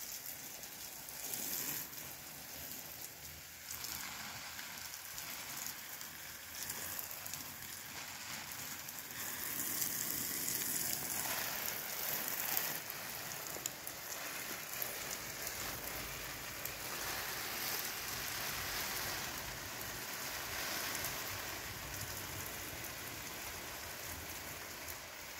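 Steady rain falls continuously over a rural bean and cassava plot, a dense hiss that holds for the whole stretch and swells a little louder midway, with no voices.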